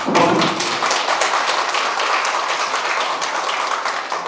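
An audience at a town citizens' meeting applauds an arriving guest, a dense, steady round of clapping that holds at even strength throughout.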